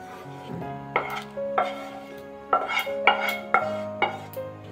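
A spoon scrapes and clatters around a pot, stirring spices into khichuri of partly boiled dal and rice; several distinct knocks and scrapes come close and clear, with a steady faint hum underneath.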